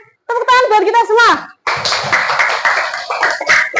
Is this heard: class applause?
yes